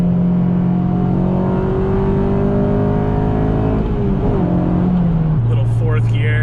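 Honda Civic Si FG2 with a K24 engine swap accelerating, a loud steady engine drone inside the car that rises in pitch, dips at a shift and settles lower in the next gear, with a voice briefly over it near the end.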